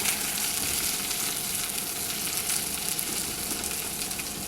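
Seafood and chicken stir fry sizzles steadily in a wok, a dense, loud, continuous frying hiss with no pauses and no voices.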